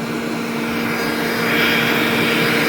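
A small turbine on a model Shahed-style drone runs steadily, a loud continuous whine with a sustained hum that swells slightly partway through, with no talk.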